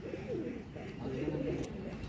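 Madrasi pigeons in a loft at Uluberia give a soft, continuous warbling coo, close and steady throughout, with a faint low murmur in the background.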